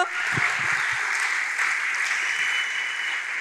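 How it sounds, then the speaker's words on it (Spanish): A church audience claps in a loud, even roar of applause that holds steady throughout, with a few brief low thumps near the start. "Dale ese aplauso fuertísimo a Cristo."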